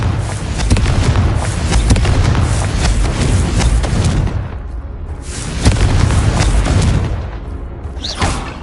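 Confringo fire spell from Hogwarts Legacy erupting in a loud, sustained blast of booming, crackling explosions, easing briefly midway before another burst flares up.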